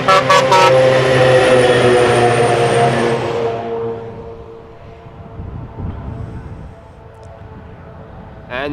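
A convoy of airport fire trucks on a Schiphol runway rolls past with a loud, rising roar and a horn-like tone for the first few seconds, then fades to a distant rumble of tires and engines.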